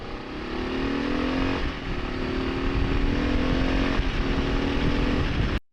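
A 2025 Kawasaki KLR650S motorcycle ridden at about 60 mph on a bumpy back road, loud steady engine drone with heavy wind rumble and occasional clatter, cutting off abruptly at the end.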